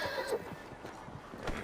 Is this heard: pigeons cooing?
no